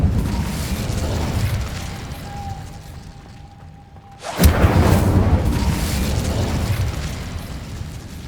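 A fire spell cast in the video game Hogwarts Legacy lands with a loud burst and whoosh after a brief hush and faint tone, then a sustained roaring blaze that stays strong to the end.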